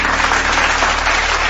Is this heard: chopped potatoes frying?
no